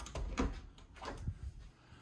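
A closet door in a bedroom at the Fountains Bluegreen Vacation Club in Orlando is opened, giving a few soft close knocks and a brief slide with faint rattling, quiet overall.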